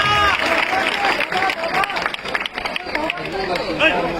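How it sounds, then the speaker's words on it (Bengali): A gathered crowd at a football memorial event claps loudly together, steady dense applause mixed with chatter and voices throughout. "একবার জোরে হাততালি হোক সবাই মিলে।"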